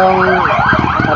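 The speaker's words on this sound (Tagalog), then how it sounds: "parating na yung ambulansya." Ambulance siren at the scene of a road crash in Meycauayan, Bulacan, a loud wailing tone rising and falling close by, filling the short moment alone.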